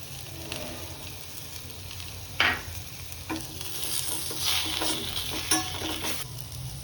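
Sliced tomatoes and salt frying in a pan for Telugu pepper rasam, a continuous close sizzle with several sharp bursts as the pieces are stirred and scraped, no voices.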